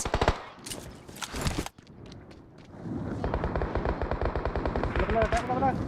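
Gunfire rattles through a PUBG Mobile match: scattered shots at first, then a long, rapid automatic burst with an even rhythm, loud and close, with players talking underneath.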